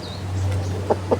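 A pair of short clucks from a white chicken at a Filipino home, close and clear, pops out over a steady low hum with no voices.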